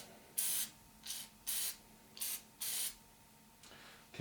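Aerosol can spraying a light coat onto a lathe hand wheel during a South Bend lathe restoration: five short hissing bursts of varying length, close and loud, separated by brief pauses, with no talking.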